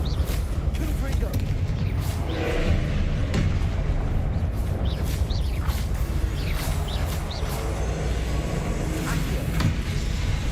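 Confringo fire spell blasts in Hogwarts Legacy, a run of booming impacts and crackling bursts in layered game combat with a steady low rumble underneath.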